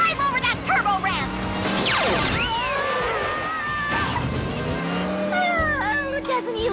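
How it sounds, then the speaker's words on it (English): Cartoon go-kart race with engines revving and whining past in fast sweeps, tires squealing and a crash-like impact, all busy and loud under excited talking voices. "Drive over that turbo ramp."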